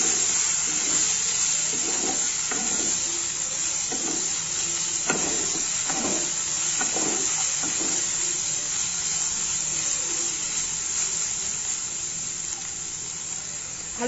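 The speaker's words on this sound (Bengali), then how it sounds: "1 চামচ হলুদ গুঁড়ো, 1 চামচ ধনে গুঁড়ো। এগুলো একটু ভালো করে কষিয়ে নেব।" Small morola fish frying with turmeric and coriander powder for a spring onion chachchari: a continuous, moderate sizzle with soft stirring scrapes that quietens slightly toward the end.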